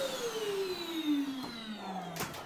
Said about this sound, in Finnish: Mä en uskaltanut mennä tonne imuroimaan, niin Kari sai tehdä sit sen.